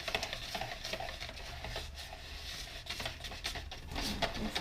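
A whisk stirring fluid resin plaster mixed to a thin, batter-like consistency in a bowl, heard as a steady, soft, close scraping and swishing patter that continues without pause.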